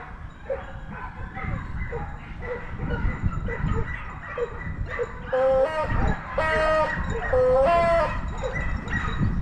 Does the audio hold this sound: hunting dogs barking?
yes